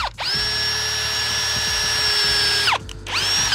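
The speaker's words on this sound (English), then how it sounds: "I'm gonna drill those pilot holes" A power drill bores pilot holes in wood for a homemade squat rack. A long, steady high whine winds down, then spins up again for a second short burst.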